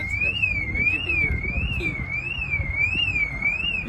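A car alarm sounds at a cold outdoor concours rally car show among parked Porsches, its loud wavering electronic tone sweeping up and down in a steady repeating cycle over faint crowd murmur.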